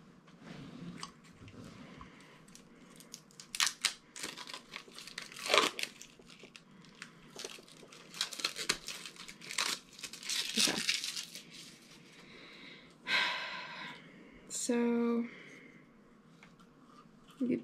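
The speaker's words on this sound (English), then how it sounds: "I love taking off this plastic stuff, except it's not coming off very easily." Protective plastic film is peeled and torn off a new desk in a series of crinkling, crackling pulls, some sharp and some drawn out, close up and moderately loud, with a voice speaking briefly near the end.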